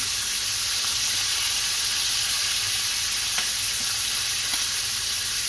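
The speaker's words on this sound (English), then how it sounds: "The glorious sound of sizzling bacon." Steady, dense sizzling of bacon frying in a pan, a continuous bright crackle with a few sharper pops, close and fairly loud.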